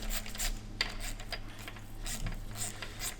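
Bolt turned by hand into the camshaft thread of a broken Audi RS3 2.5 five-cylinder engine, a close series of dry metallic ratcheting clicks and scrapes in an uneven rhythm.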